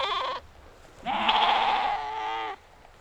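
A sheep bleats twice, first a short call, then a longer wavering one, close and clear against a quiet background with no talking.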